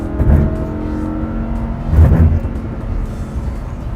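A Lamborghini Huracán in race mode, its engine revving up close in two strong bursts over a steady, rumbling idle-like hum.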